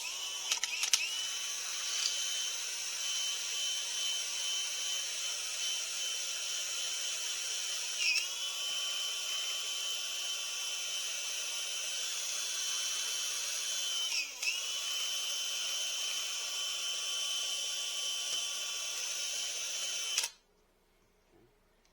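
A handheld drill spinning a fanned-out 2-inch strip of sandpaper on an adapter bit sands a bowling ball in a steady, loud, high-pitched whir lasting about twenty seconds, with two brief catches before stopping abruptly.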